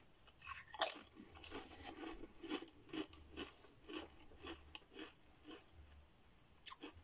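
Cheese and onion Pringles crisps being eaten up close, with repeated crisp crunches and chewing in an irregular rhythm, including one sharp loud bite early on, with no talking.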